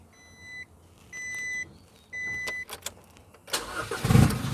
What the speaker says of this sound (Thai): เดี๋ยวเรามาลองฟังเสียงรถคันนี้กันดีกว่า